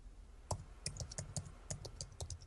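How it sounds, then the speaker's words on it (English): Fingers type on a computer keyboard in quick, uneven bursts of crisp clicks at close range, key presses clustering in short runs with brief pauses, quiet and alone with no talking. "Let me just finish typing this."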